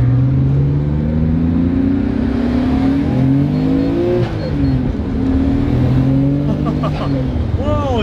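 A Japan-built Nissan R32 GT-R engine pulls hard through second gear, its rising drone heard from inside the car, steady and fairly loud, with people talking over it.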